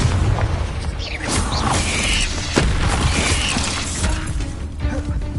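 Confringo fire spell blasts going off in Hogwarts Legacy, a run of loud booming bursts with crackling, shattering debris over dense game sound effects and music.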